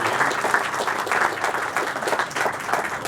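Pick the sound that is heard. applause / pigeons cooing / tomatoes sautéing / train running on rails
applause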